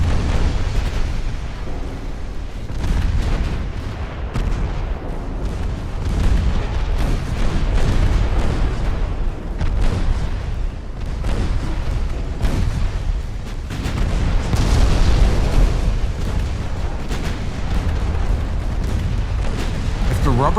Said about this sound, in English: they still have ships that we can't see firing at us